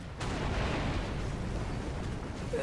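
A siege artillery shot booms in a strategy video game during a citadel siege, a broad rumbling blast that starts abruptly and rolls on loud and sustained for a couple of seconds.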